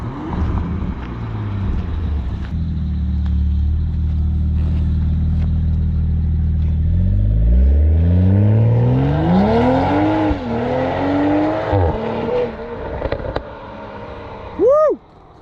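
A 2021 Toyota Supra fitted with a new aftermarket exhaust, heard close up: a low rumbling idle, then rising revs climbing to a loud, sweeping roar, a few blips and a sharp final rev.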